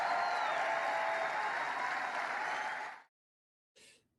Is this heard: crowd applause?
yes